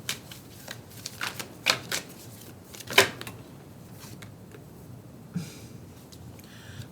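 Tarot cards are handled and drawn in a few separate soft slides and sharp flicks, with quiet pauses in between, heard up close with no talking.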